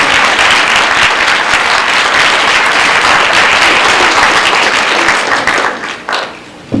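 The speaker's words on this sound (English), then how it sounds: "I'd like to ask all of our students to give him a nice round of applause to show our tremendous appreciation." Fifth-grade students in a school gathering applaud a DARE officer, a loud, dense burst of many hands clapping together close by that holds steady and then tapers off near the end.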